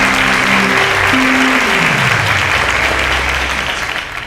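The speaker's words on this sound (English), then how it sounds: "Please give them a round of applause." A studio audience applauds the contestants on a quiz show's grand finale with loud, dense clapping under a descending musical tone, easing slightly toward the end.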